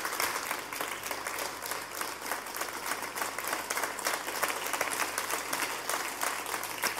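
An audience at a show applauds steadily, many hands clapping in a dense, even patter that holds at moderate loudness from start to finish with no voices on top.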